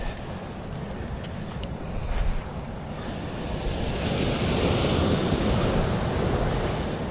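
Small ocean waves washing over a rocky shore of clear water, a continuous surging roar with wind buffeting the microphone, swelling gradually louder toward the end.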